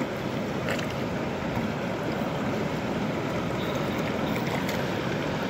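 A British Columbia river rushes past in a dense, steady roar of flowing water that fills the whole clip at even loudness, heard close with no voices.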